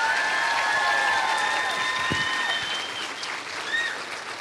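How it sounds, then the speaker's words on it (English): Pageant audience applauding, a steady wash of clapping heard close, with a few whistle-like tones and brief noises mixed in over the few seconds. "Let's give them all a round of applause."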